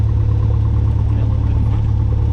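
A small training aircraft's piston engine drones loud and steady from inside the cockpit during a slow-flight lesson, a constant heavy low hum with power being added and no clear speech over it.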